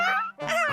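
A small cartoon dog whimpers and whines in high, wavering, nasal cries, two short bursts split by a brief pause, close and clear with a faint low hum underneath.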